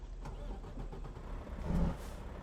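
Truck engine in American Truck Simulator, a steady low rumble with a slight swell in load near the end, heard on its own without talk.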